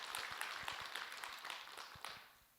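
Audience applause at a Buddhist Dharma talk hall, a soft, steady patter of scattered clapping from a gathered crowd that thins out toward the end, with no voices over it.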